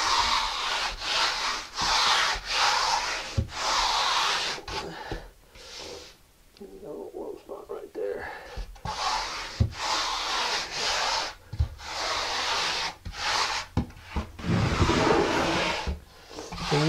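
Steel trowel smoothing and packing concrete mortar in a shower pan over a vinyl liner, repeated close gritty scraping strokes in uneven bursts with short pauses between them.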